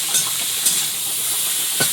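Shrimp with beetroot, potato and green chilli fries in a pan, a constant close sizzle broken by a few stirring scrapes, with no voices.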